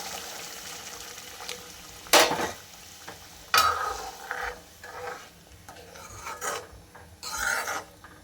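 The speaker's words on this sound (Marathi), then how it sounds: "तेल टाकल्यानंतर त्यामध्ये वाटलेला मसाला टाकला एक चमचा मिरची पावडर टाकली आणि पनीर मसाला टाकला दोन मिनटं छान परतवून घेतले" A paste of ground masala with chilli powder and paneer masala sautés in oil, giving a soft sizzle under scraping and rubbing strokes of a spoon in the pan, with several louder rasping bursts, close by and with no talking.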